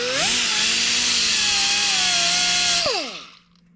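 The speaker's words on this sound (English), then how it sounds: "I need to grind this down a little bit" An angle grinder bites into a metal nub on a Serveta engine part, its motor spinning up and holding a loud steady whine under grinding noise, then winding down to silence, close by with no voices.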